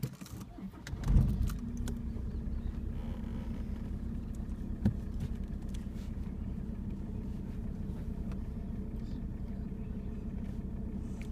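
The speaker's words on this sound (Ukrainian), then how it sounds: "Вона зараз покотилась, тому що ми просто відпустили щеплення і це з горба." A car in first gear starts rolling down a hill as the clutch is let out, giving a steady, close low engine hum throughout after a brief louder rumble and rattle near the start.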